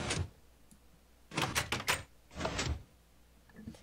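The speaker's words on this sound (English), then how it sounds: "So that opens these doors." Doors open in a Minecraft adventure map, heard as a few short mechanical bursts with a pause between them. They are moderately loud and close, with no voices over them.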